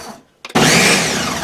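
Ninja blender with stacked blades up the shaft pulsing flour: after a near-silent pause and a couple of short clicks, the motor kicks in loud and close with a sustained high whirring roar.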